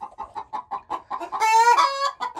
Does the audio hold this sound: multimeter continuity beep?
no